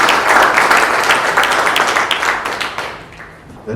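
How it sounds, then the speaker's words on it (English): An audience at a magazine launch event claps and applauds steadily, loud and dense at first, then gradually thinning and fading out near the end. "Another round of applause, please, for Eunice."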